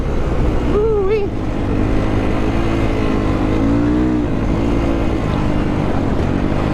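A loud MotoPro 300 motorcycle engine drones steadily up close, with rising and falling revs. A voice briefly exclaims over the engine noise near the start.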